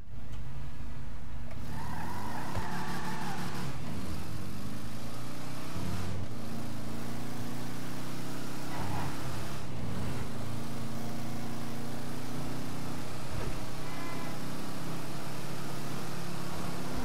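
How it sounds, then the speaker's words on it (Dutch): Car engine in GTA 5 video game, a loud continuous engine drone that revs and shifts pitch at several points over a sustained rumble, with no talking. "Wat een autogeluid daaruit komt."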